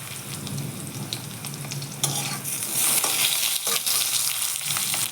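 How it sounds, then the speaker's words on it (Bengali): Potato pieces fry and sizzle in a pan with black cumin seeds and green chilies, while a spoon stirs and scrapes them in a loud, continuous crackle with occasional clatters. "আলুটা অল্প ভেজে নেব"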